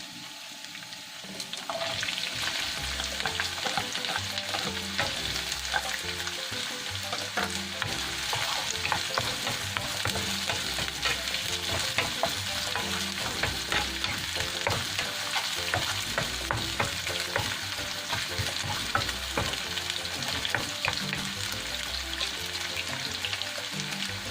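Sliced onion frying in a pan for chicken liver and gizzard sisig, a dense continuous sizzle with bursts of crackle and occasional stirring scrapes, close and steady throughout.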